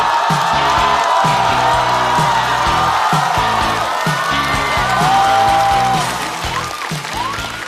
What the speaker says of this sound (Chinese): 掌声欢迎高寒。